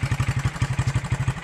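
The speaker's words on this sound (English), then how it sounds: "The engine is fine. No knocks whatsoever. Here's the exhaust." A 1983 Honda XR250 motorcycle engine idles steadily near the exhaust, with a rapid, even low-pitched thump and light mechanical clatter over a short stretch, alone with no voices.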